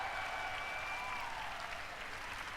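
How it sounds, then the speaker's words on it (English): Audience applause fills the hall at the E3 2019 Microsoft press conference, a dense, sustained wash of clapping from a large crowd, steady and loud for the whole stretch with a faint tone lingering underneath. "Cue applause."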